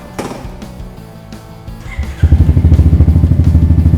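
A Honda Forza 350 scooter fitted with an aftermarket exhaust: after a few soft clicks and knocks, the engine catches and throbs loudly at close range in a fast, pulsing idle rev.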